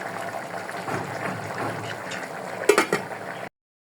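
Beef sautés in a pot over a low flame, a soft bubbling simmer followed by a few close scrapes and clanks of a stirring spoon before it cuts off.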